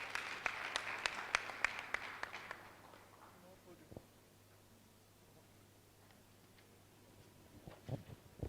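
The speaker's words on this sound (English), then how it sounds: "can we give him a round of applause as he comes?" Brief scattered clapping from a small audience at the opening ceremony of an architects' annual general meeting and conference, dying away after about three seconds to quiet room noise with a few faint sounds.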